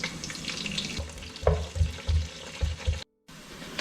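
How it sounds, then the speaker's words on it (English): Green chili, onions and curry leaves fry in three tablespoons of oil for a village-style rohu fish curry. A soft sizzle runs under rhythmic low thumps of stirring, then cuts out briefly. "we are going to add green chili and onions with curry leaves"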